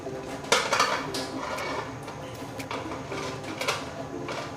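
A lid clanks onto a cooking pot of pineapple chicken, with a sharp metallic knock followed by lighter rattles and another clink a few seconds later over faint kitchen background.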